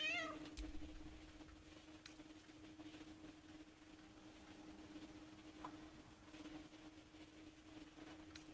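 A cat meows in Baldur's Gate 3, with a few short calls near the start over a steady low game hum and ambient background, no talking.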